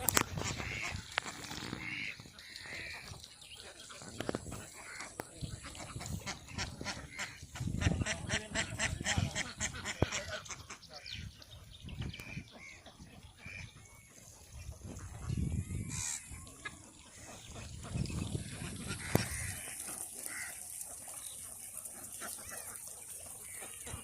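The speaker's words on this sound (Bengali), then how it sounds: "এদেরকে আরো কাছে নিয়ে দেখাই কি পরিমাণ হাঁস।" A large flock of domestic ducks on a haor wetland quacks and honks in a dense, continuous chorus, rising in rhythmic bursts, with a person talking over it at times.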